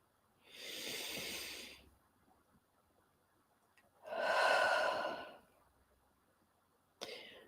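Slow, deep breathing in a calm grounding breath exercise: a long inhale, a pause, then a longer slow exhale, close and soft, with a brief sharp breath at the end and no talk.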